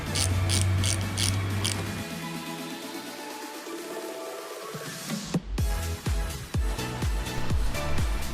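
Ratchet wrench tightening a part on a 2020 Husqvarna 701 motorcycle, giving a loud clicking ratchet run at first, then a series of sharp, separate clicks and mechanical clunks nearby, with no one talking.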